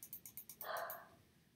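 A pet dog barks in the background, a quick run of six sharp, evenly spaced yaps followed by one longer, louder bark that trails off, fairly faint and heard alone without talk.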